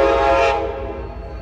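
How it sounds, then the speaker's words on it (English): An Amtrak Capitol Corridor train, number 737, arriving at Oakland Jack London Square station, its loud, close horn blaring as a rich sustained chord that starts to fade within a second. "Okay, folks, here comes Amtrak."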